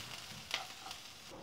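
Onion, ginger and garlic fry in hot oil, a soft, close sizzle with a few brief crackles and stirring scrapes, quiet and with no voices.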